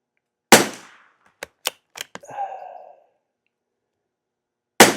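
Rifle firing CCI SV rimfire rounds over a chronograph: two sharp, loud shots about four seconds apart, with a few quick mechanical clicks and a soft rustle in between.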